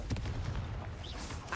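A blasting spell cast in the Hogwarts Legacy video game, heard as a short burst of explosive cracks and rumble over continuous low game ambience inside a cave maze.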